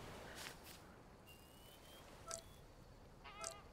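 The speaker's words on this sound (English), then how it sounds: "Migratory birds just chilling." A few faint honking calls from migratory birds in Alba: A Wildlife Adventure, widely spaced and soft against a quiet outdoor ambience.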